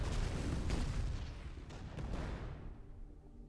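A weapon fires in the Shellshock tank artillery game, one loud booming blast that rolls out and fades away over a few seconds.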